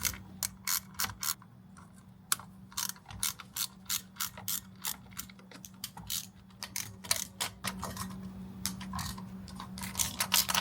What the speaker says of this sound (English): And then I'm going to go ahead and unbolt the coil packs themselves.